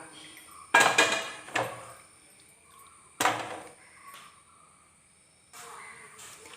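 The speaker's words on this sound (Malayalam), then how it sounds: "ഇനി അത് നമുക്ക് നമ്മുടെ സവാള ഇതിലേക്ക് ചേർത്ത് കൊടുക്കാം" Onion goes into a pan of hot oil for a quick egg curry, with sharp bursts of sizzle and clattering from the pan that fade between, over an otherwise quiet kitchen.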